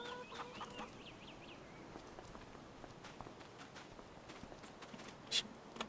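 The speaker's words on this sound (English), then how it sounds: "Let's just check the chickens." Chickens on a farm in Farming Simulator 25 give a few quick clucks near the start, over a low outdoor ambience with soft scattered footstep-like taps.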